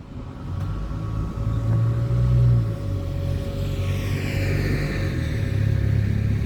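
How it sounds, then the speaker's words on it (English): A bus driving past at St George's in Telford, a low engine rumble swelling as it nears, then a rising whine and fading roar as it moves away, loud and close with no talk. "And there goes the bus as well"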